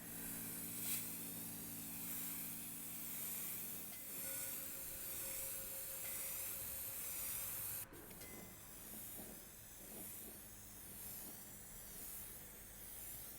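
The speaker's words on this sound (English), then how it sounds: "For this one, I'm going to be using the spray enamel." Steady hissing of spray enamel paint from an aerosol can runs continuously over a mechanical hum, with a short break and a sharper hiss in the later part; no one speaks.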